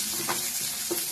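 Cooked chickpeas being stirred with fried onion in hot oil, a brief close burst of hissing sizzle with a couple of soft spoon scrapes, no talking.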